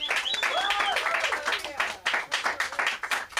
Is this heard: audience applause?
yes